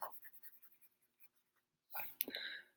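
Marker or chalk strokes writing on a classroom board during an algebra lesson, a quick run of short scratchy taps followed by a longer squeaky stroke, faint and close with no talk.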